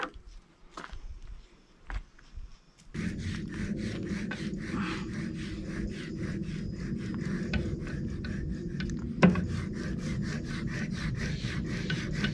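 Wood trim being hand-sawn indoors during an RV rebuild, a quiet start with a few knocks, then a steady back-and-forth rasp of strokes running close and moderately loud to the end.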